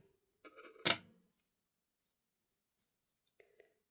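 Scissors snip off the excess yarn of a crochet motif after a chain is pulled through with the hook, giving one sharp, close cut followed by faint small handling ticks in a quiet room.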